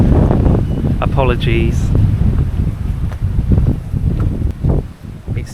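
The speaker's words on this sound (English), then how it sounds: "And it's very windy." Strong gusty wind buffets the microphone on a steep sunken trackway in Devon countryside, a constant roaring rush under a man's brief speech.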